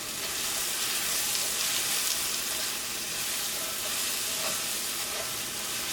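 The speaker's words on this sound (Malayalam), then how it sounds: "ഇതെല്ലാം കൂടിയിട്ടൊന്ന് വഴറ്റിയെടുക്കാം." Onions, ginger and curry leaves sautéing in a pan for potato bonda filling, giving off a steady, close sizzle and hiss without pause.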